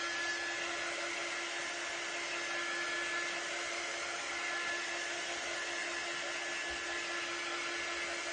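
A hair dryer blows steadily on a wet craft project, a constant, even whoosh and hum throughout, with no talking.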